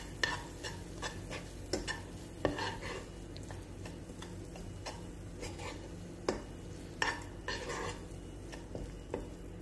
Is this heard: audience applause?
no